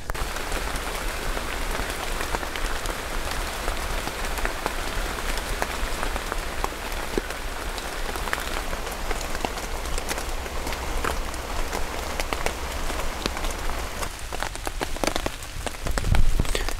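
Rain falls steadily onto forest leaves in a dense, even hiss of pattering drops with scattered sharper taps. It carries on throughout and grows slightly more uneven near the end.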